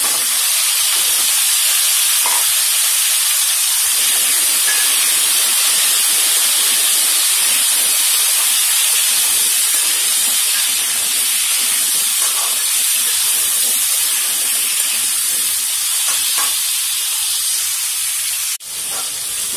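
Whole onions, tossed with a little turmeric, frying in hot oil for a chicken do pyaza, giving a steady loud broadband hiss and sizzle that runs unbroken for the whole stretch, with no voices.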